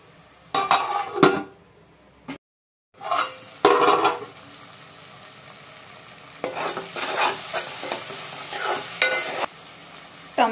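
Gongura and dried fish curry being stirred in a pan, in short bursts of scraping and mixing over a soft background sizzle, with one brief silent gap partway through.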